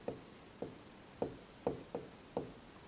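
A pen scratches out Sanskrit words on paper in six short, crisp strokes at an uneven rhythm, close and quiet, with no talk.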